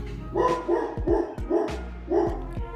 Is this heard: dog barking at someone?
yes